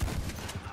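A short burst of video game gunfire, a rapid volley of shots lasting under a second.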